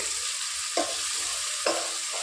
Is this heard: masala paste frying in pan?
yes